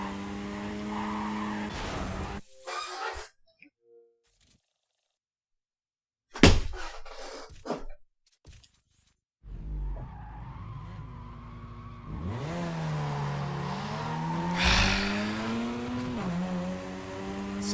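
Racing car engine revving and tires skidding in Need for Speed: Carbon, loud and continuous with drops to silence, then rising and falling engine pitch sweeps with screeching tire squeals toward the end; no talk.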